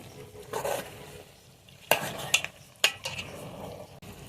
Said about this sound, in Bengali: এখন মাংসটা মিশিয়ে দিচ্ছি